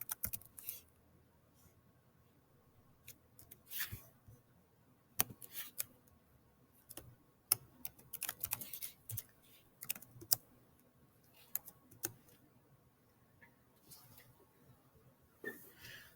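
Someone typing data into a Google Sheet on a computer keyboard: scattered, quiet key clicks and short bursts at an irregular pace, faint and close, with soft room noise between them.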